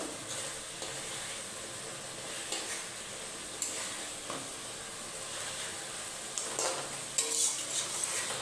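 Pangas fish fries in a pan with a steady, close sizzle and crackle, broken by a few louder clatters and scrapes near the end as the fish is flipped.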